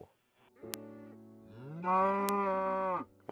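Blocky video-game cow in a survival island world lowing twice: a short moo followed by a longer, louder drawn-out one, close and clear with no talking.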